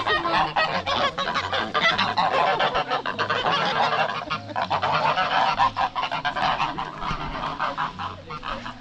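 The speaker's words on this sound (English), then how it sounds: "And here are the noisy birds." Geese at Guedelon Castle honking noisily in a constant overlapping clamor, loud and nearby, with many birds calling at once and no talk.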